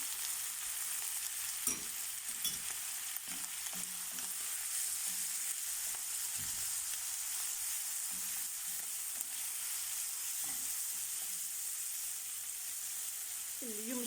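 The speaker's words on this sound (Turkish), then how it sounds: "doğramış olduğum biberle domatesimi içerisine ilave ettim" Steady, dense sizzling of chopped peppers and tomatoes frying in a pan, with occasional soft clinks and stirring sounds over the continuous crackle.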